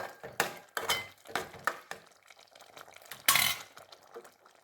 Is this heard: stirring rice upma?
yes